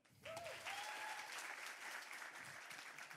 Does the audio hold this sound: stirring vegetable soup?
no